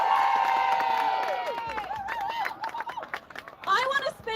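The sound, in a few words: hostile crowd noise at a rally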